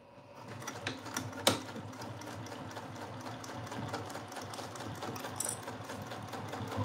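A home sewing machine basting the layers of a tote bag runs in a steady, fast mechanical whir with rapid needle clatter and one sharp click, close and continuous.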